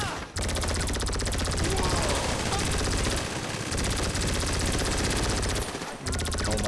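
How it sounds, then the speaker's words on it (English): Minigun fire in a video game: a continuous, loud rapid-fire roar of rounds lasting several seconds, breaking briefly near the start and again near the end. "Let me pull my minigun out."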